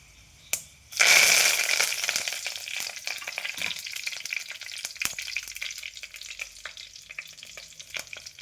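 After a quiet moment and a single click, dried red chilies and curry leaves hit hot oil with a sudden loud burst of sizzling. The sound then settles into a steadily fading crackle.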